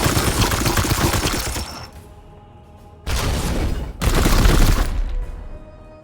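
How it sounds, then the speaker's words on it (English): Gunfire in Warhammer 40K Chaos Gate Daemonhunters comes as loud, dense bursts of rapid shots. A long volley is followed by a brief near-silence, then two more heavy bursts close together. "Opening fire!"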